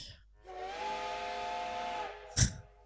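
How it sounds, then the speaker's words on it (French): A steady, breathy whistle from the video game Code:Realize ~Guardian of Rebirth~ holds for about a second and a half, then cuts off, followed shortly by a sharp thump. "Nous avons entendu un sifflet."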